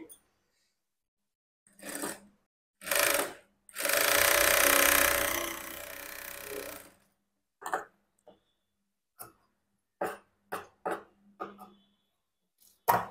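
A sewing machine stitches a hook strip onto a blouse, running in short bursts with one longer steady whir in the middle, followed by scattered clicks and handling noises close by.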